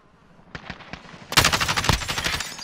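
Gunfire in the video game Warzone: a few spaced single shots, then a loud, close burst of rapid automatic fire that keeps going to the end.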